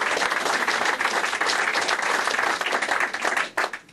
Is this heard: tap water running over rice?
no